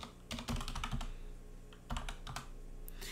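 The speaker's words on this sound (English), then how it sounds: "we're going to type Sanchez" Fast typing on a computer keyboard in a word-processing session, two close bursts of crisp key clatter separated by a brief pause, with no voice over it.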